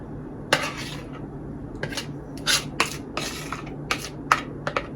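Zucchini bread batter scraped and dropped into small metal loaf pans, giving a series of sharp metallic clinks and scraping taps at irregular intervals, close up with no talking.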